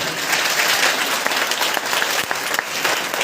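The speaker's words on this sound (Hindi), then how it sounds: "इसलिए जरा जोरदार तालियां बजा दीजिए।" An audience at a press club welcome event in Indore claps loudly and continuously, a dense, close wash of applause without speech.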